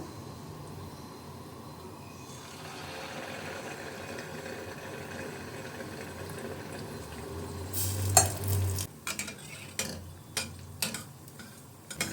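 Appam batter poured into a hot pan for Karthigai Deepam, giving a soft, steady sizzle with faint stirring and scraping, then a few sharp clinks and taps of a utensil near the end.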